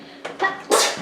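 A sudden sneeze, close and sharp, with a quick intake of breath before the explosive burst.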